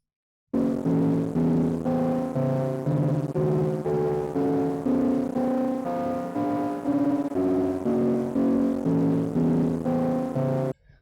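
Music from a demodulated FM radio signal with a steady rhythmic beat and layered tones plays continuously, slightly thin and radio-like, with no talking over it.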